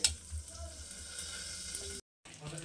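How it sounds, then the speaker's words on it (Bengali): Steady oil sizzle of eggplant slices frying in a pan, with a brief dropout of sound near the end before the frying noise resumes. "খুব ভালো করে ভাজতে হবে বেগুনটা"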